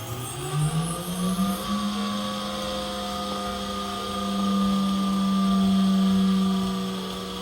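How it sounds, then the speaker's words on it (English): A water-cooled Audi alternator, part 4N0903028, spinning steadily during a software update, giving a sustained tonal whine that rises in pitch early on and then holds, with a broad mechanical hum underneath. "And we can leave the alternator turning."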